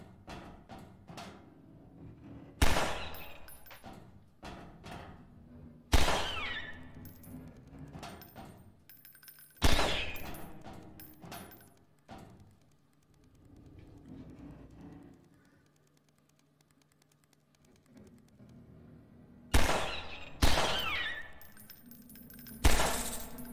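Sharp gunshots ring out in Half-Life 2 VR, several loud single cracks spaced seconds apart with quieter mechanical clatter in between.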